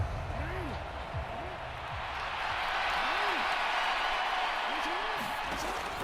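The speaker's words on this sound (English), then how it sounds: "How about some applause for the defense there?" Stadium crowd at a football game applauding the defense, a broad roaring wash of cheers and clapping that swells and holds, with brief thumps and chirps from the field mixed in.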